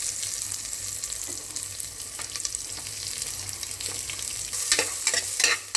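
Chopped onion fries in ghee with curry leaves, a close steady sizzle with scattered pops and stirring scrapes that grow louder toward the end, no voices.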